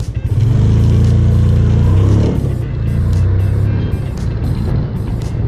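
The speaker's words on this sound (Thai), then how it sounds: "อันนี้คือเบรกหน้าอย่างเดียวมันมันเลยมาไกลมากเลยเพื่อนจากเส้นเนี่ย" A manual-gear motorcycle revs loudly and accelerates, then the engine note drops as it brakes with the front brake only, sounding close and continuous throughout.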